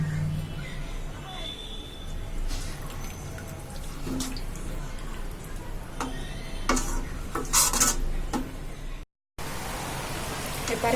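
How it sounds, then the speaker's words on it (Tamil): Mutton liver fry is stirred in a pan after water is added, soft scraping and clinks of a spoon against the pan under ongoing talk, with faint watery sounds and a brief cut near the end. "நல்லா கலந்து விட்டுக்கோங்க."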